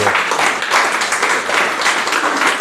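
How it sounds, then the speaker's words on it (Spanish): A church congregation applauds for God in a steady, dense wash of clapping that fills the whole moment without pause. "¿Cuántos pueden darle un fuerte aplauso a"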